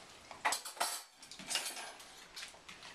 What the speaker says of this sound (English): It takes a long time to unload the dishwasher and you can only do one piece of silverware at a time